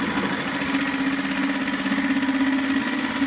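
A SeaNovo 2.5 hp four-stroke outboard idles in neutral, giving an even, steady mechanical drone close by with no voices.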